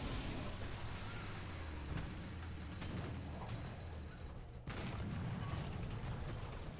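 A Tiger E tank in the War Thunder video game lets off a single heavy cannon blast near the end, breaking a constant loud engine rumble and broadband battlefield noise.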